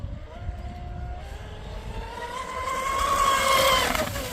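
A Traxxas Spartan RC boat on an 8s setup with an Oxidean 1650Kv six-pole motor runs near full throttle, its high electric whine climbing in pitch and loudness as it passes, over rushing water noise.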